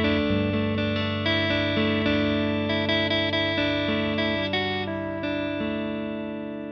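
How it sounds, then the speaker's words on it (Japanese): Electric guitar arpeggio played through a Victory VC35H Deluxe amp head with edgy distortion, single notes ringing out one after another and overlapping into sustained chords, loud and clear with no talking. "例えばアルペジオとかした時に"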